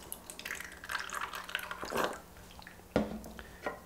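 Simple syrup pours into a cocktail shaker for a Tom Collins, a short trickling splash followed by a couple of soft drips and clinks up close.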